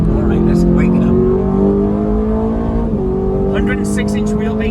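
A 2025 Aston Martin Vantage with a short wheelbase, heard from inside the cabin as its engine revs climb steadily in a continuous loud drone, dropping briefly at a shift before rising again, with a person talking over it.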